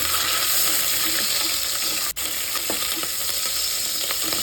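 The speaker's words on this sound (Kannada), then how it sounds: "ಇದು ಫ್ರೈ ಆಗ್ತಾ ಇದೆ." Green chillies fry in a pan with a steady, close sizzle and crackle, and a single sharp tick stands out partway through.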